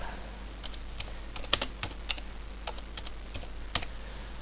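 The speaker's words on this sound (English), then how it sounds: "I'll type that in with the keyboard." Keys tapped on a computer keyboard while entering spreadsheet figures, a sparse, uneven run of light clicks close up with short pauses between strokes.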